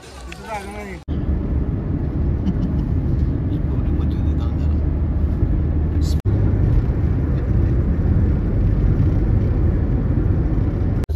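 A family car sets off on a road trip from Mumbai toward Solapur, its engine and road rumble a constant loud drone from inside the cabin while voices talk over it.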